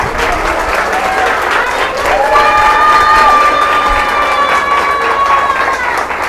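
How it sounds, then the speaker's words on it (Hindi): A church audience bursts into loud, sustained clapping mixed with shouting and cheering, steady for several seconds with whistle-like tones rising above the crowd noise. "एक बार जोर से चीख कर चिल्लाकर ताली बजा दीजिए।"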